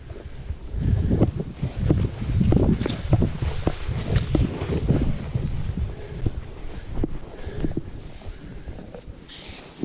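Outdoor wind gusts buffeting the microphone with a rough, continuous rumble that swells and eases, heard during a dog's scent-tracking session in open grass.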